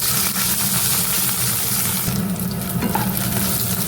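Pieces of drumstick (moringa) sizzle and crackle in hot oil close by, a steady dense frying hiss with occasional stirring scrapes.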